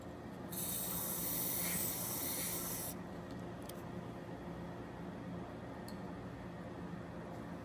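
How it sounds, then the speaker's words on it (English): Fluid Film lubricant hisses from an aerosol can onto tow hook threads in one steady burst of about two and a half seconds, close and fairly quiet, followed by a few faint clicks and handling noises. "I'm going to spray some fluid film on the tow hook"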